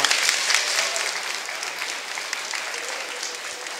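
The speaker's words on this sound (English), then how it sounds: "Round of applause for our Mobile High School students." An audience applauds high school students at an Education Week opening ceremony, a dense, steady wash of clapping that holds for the whole stretch with no voices over it.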